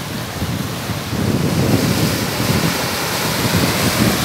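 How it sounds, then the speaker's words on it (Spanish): Ocean surf rolling onto the beach at Boca del Río, Veracruz, a steady broadband wash that swells louder after the first second and keeps rumbling without a break, with no voices over it. "Mientras el oleaje no deja de llegar aquí"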